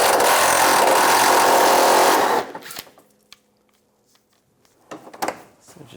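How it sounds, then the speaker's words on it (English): A 10mm socket tool backs bolts out of a 2004-2009 Toyota Prius, opening with a loud, steady mechanical whir for about two seconds, then stopping, followed by faint clinks and a short rattle. "Using a 10mm socket,"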